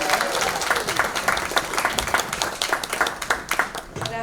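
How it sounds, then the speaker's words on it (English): An audience at a community forum on Latinx communities and the criminal legal system bursts into loud, sustained applause, dense clapping from a room full of people close by, fading slightly at the end. "Give her a warm round of applause."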